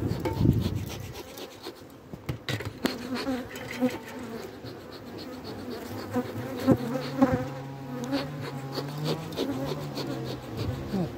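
Honeybees buzz steadily during a February beehive inspection, a close, continuous drone that carries throughout, with scraping and rubbing from the hive frames mixed in.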